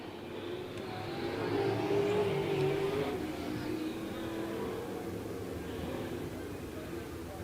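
Sprint cars race on a dirt speedway at the Off Road Speedway, a sustained engine roar swelling and fading as the field battles for third place, with an announcer talking over it.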